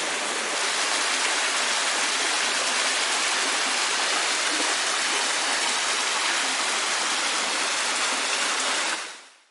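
Stream water rushes and splashes steadily as it is collected along the Jordan Trail near Mount Nebo, a broad, close, continuous wash with no voices, cutting off abruptly at the end.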